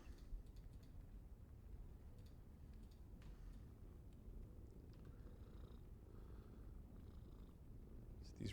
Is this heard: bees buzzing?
no